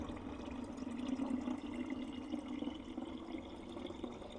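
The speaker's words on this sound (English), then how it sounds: "I gotta refill another water bottle and then I replace it with a cold one." Cold water running from a fridge dispenser into a water bottle, a steady continuous pour at close range with no talk.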